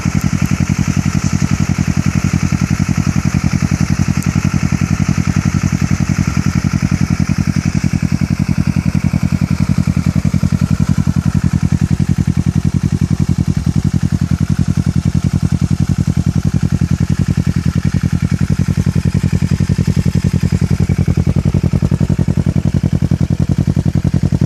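A 2013 Kawasaki Ninja 650 with a Two Brothers full system exhaust runs loud and close, its engine holding a steady, heavy drone for the whole stretch, with no talk over it.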